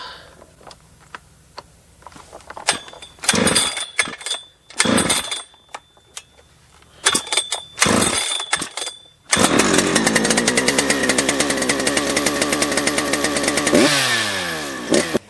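A ported Husqvarna 3120XP chainsaw with an upgraded ignition starts up and revs in short loud bursts, then settles into a sustained, close, buzzing run that rises in pitch near the end, with no one talking.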